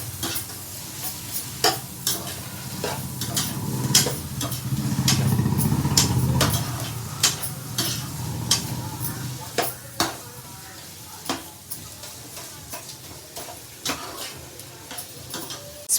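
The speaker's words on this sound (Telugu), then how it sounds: "స్పూనున్నర అల్లం వెల్లుల్లి పేస్ట్ ఆనియన్స్లో కలుపుకొని వేపుకున్న తర్వాత డీప్ ఫ్రై అయిన తర్వాత" Ginger garlic paste and onions for prawn curry fry in a pan with a continuous sizzle. Sharp spoon clinks and scrapes against the vessel mark repeated stirring, and the frying swells louder midway.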